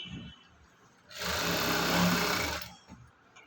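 A sewing machine whirs through a short run of stitches along a seam for about a second and a half, starting and stopping cleanly in a quiet room.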